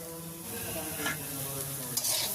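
Shrimp added to beetroot and cabbage frying in a pan, a steady close sizzle with stirring scrapes and a couple of sharper clinks near the end, no voices.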